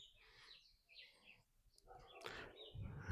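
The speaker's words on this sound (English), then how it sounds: "listen to the birds" Birds chirp and sing outdoors at sunrise with a mountain range in the distance, with thin repeated calls at moderate distance, partly mixed with someone talking and a louder burst of sound near the end.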